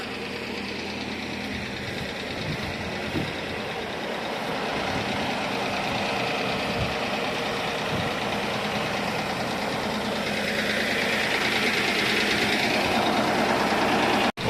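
A tractor engine runs steadily while plowing a field with a PLN 5-35 plow, a loud continuous knocking diesel drone with rumbling vibration throughout.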